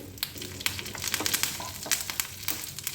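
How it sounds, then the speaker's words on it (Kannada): Mustard seeds, five or six dried red chilies and curry leaves sizzle and crackle in hot oil, with dense, irregular popping and spattering close up and no voices. "ಸಾಸಿವೆ ಸಿಡಿದ ನಂತರ ಒಂದು ಐದರಿಂದ ಆರು ಒಣಮೆಣ್ಸಿನ್ಕಾಯಿ ಹಾಕೋತಾ ಇದ್ದೀನಿ ಸ್ವಲ್ಪ ಕರಿಬೇವು"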